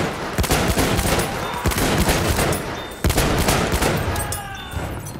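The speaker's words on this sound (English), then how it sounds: "Spray a ton of bullets down." Rapid sustained automatic gunfire sprayed from a gun in Battlefield 1 multiplayer on the Ballroom Blitz map, loud and close, with dense bursts of shots, sharp cracks standing out around a few moments, and a slight tail-off near the end.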